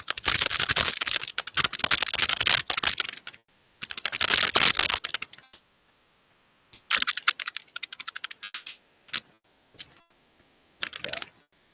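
Fast typing on a computer keyboard, close and crisp, in dense bursts of rapid key clatter separated by short pauses, with no one speaking.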